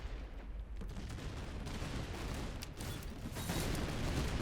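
Musket volley fired at skirmishers in the Master of Command Habsburg campaign, a fairly faint, dense crackle of distant gunfire and battle rumble, with scattered sharper shots standing out.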